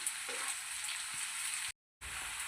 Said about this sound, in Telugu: సన్నగా కట్ చేసుకున్న ఉల్లిపాయ ముక్కలు వేసుకుందాం వీటిని అయితే దూరంగా వేయించుకోవాలి